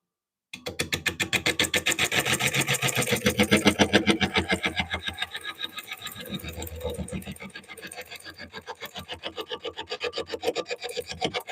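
A rapid, regular clacking and rasping from a wood lathe tool as it cuts an oak bowl turning on the lathe, with a tick on every revolution. It is close and even throughout, dipping briefly near the middle.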